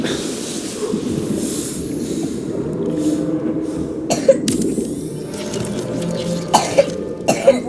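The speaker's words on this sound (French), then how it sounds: "c'est juste mon petit frère qui est malade et qui arrête pas de tousser pendant la vidéo" A sick young boy coughs in the background of a room, with several short, sharp coughs clustered late, heard over a steady low hum.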